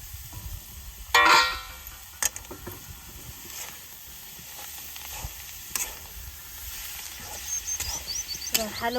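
Cluster beans cooking in a pan, prepared dry-style in a home kitchen: faint, steady sizzling with occasional scraping and stirring clatter, one louder clink early on, quiet throughout.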